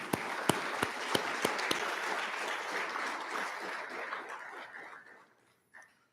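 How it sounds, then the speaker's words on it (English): An audience applauds scholars at a college of engineering end-of-year celebration, with a few sharp nearby claps at the start over a steady wash of crowd clapping that gradually fades out. "Let's give those scholars another round of applause"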